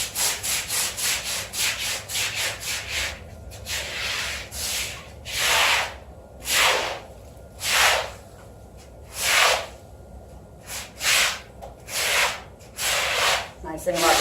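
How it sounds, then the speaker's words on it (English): A rubber broom scrubs an exterior window in rhythmic back-and-forth strokes, giving a series of close, bristly swishing rubs that come quickly at first and then settle into slower, evenly spaced passes. "I'm going to real quick get this crap scrubbed up."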